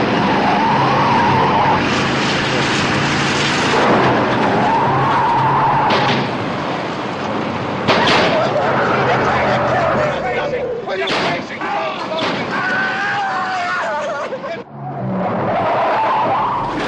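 Cars skid and crash in a film scene, with loud continuous engine roar, tire squeals and sharp impact bursts over about seventeen seconds, a brief drop near the end, and voices mixed into the action.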